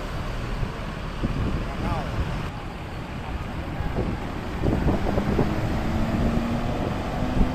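Strong wind buffets the microphone at Kampung Rambutan bus terminal under a grey, overcast sky, a steady broadband roar with a bus engine droning and traffic nearby and faint voices in the background.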